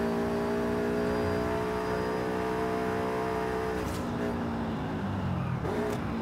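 A car engine revs hard and holds high under heavy acceleration, steady and loud throughout, easing briefly near the end before climbing again; a driving-game car with twitchy handling is pushed at full throttle.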